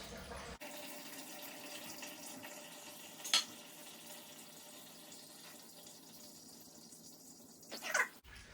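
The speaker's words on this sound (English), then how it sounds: "we'll go ahead and wait for this one to completely stop or just dribbling down" Water dribbling and trickling from house plumbing as the lines drain down before angle stops are changed under a cabinet, a steady faint wash with a couple of brief louder splashes.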